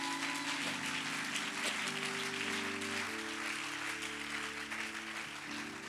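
A church congregation at a New Year's Day service applauds in steady, dense clapping that holds for several seconds over a low background of music or hum.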